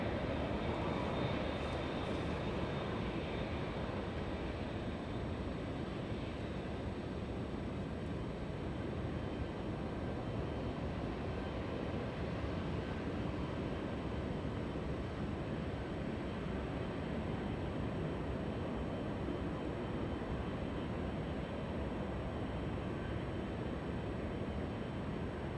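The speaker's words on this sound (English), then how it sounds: "Virgin Atlantic, there we go. Making a south arrival, sadly." A Virgin Atlantic airliner arriving at Los Angeles International Airport produces a broad, steady roar of jet engines that holds at an even level throughout, a dense wash of noise with no pauses.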